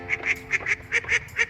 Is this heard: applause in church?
no